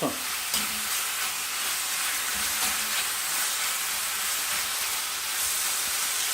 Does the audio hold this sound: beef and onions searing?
yes